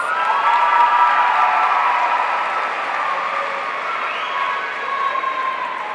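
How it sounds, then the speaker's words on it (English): A crowd at a high school graduation ceremony claps and cheers for the graduating students. The applause is loud and sustained, a dense wash of clapping mixed with scattered cheers that slowly eases a little toward the end. "Congratulations to our students. Please give them a round of applause."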